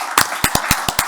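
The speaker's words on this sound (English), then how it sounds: "And a round of applause for you." A short burst of applause at an online awards closing ceremony, six or seven sharp, loud claps in an uneven rhythm, close to the microphone and heard on their own with no talking.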